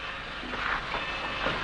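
A train starting to move on rails, heard as a steady broadband rumble with a continuous rolling, grinding wash throughout and no distinct whistle or horn.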